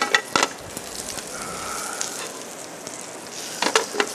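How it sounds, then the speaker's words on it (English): Fennel, garlic, fennel seed and orange zest sautéing in a pan, a soft steady sizzle with a few sharper clatters of stirring at the start and end. "we're just going to saute that a bit"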